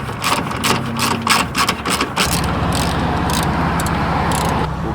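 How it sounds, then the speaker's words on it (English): A ratchet with a small extension works a 10 mm bolt loose on a car during a dead-battery roadside rescue, clicking in quick rhythmic bursts for about two seconds before a steady mechanical drone takes over. "10 millimeter, a little extension, and a ratchet. Pull that bolt out."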